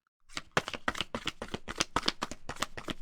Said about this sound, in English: I'm only going to shuffle 3 times for this deck.